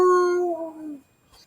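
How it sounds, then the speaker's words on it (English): A dog gives a drawn-out, falling howl or whine for about a second in the background, then fades to quiet. "That dog barking in the background"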